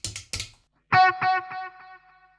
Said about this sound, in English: So you can tap that to set your delay tempo